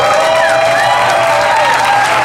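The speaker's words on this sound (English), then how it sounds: "Give yourself a round of applause." Crowd at an outdoor rally against ICE in Connecticut claps and cheers loudly in a short, dense burst, with voices mixed into the applause before it cuts off.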